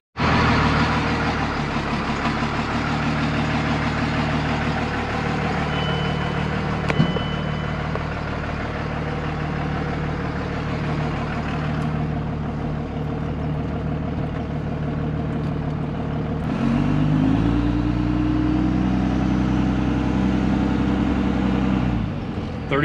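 An old second-generation pickup truck drives along with a steady, loud engine drone and low rumble that holds throughout, shifting slightly in pitch partway through, with no talking.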